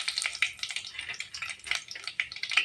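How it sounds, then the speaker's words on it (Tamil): Curry leaves crackle and sizzle in hot oil while mango rice is being cooked, giving a busy, close-up spattering with sharp pops throughout. "கருவேப்பிலை ஆட் பண்ணிக்கலாங்க."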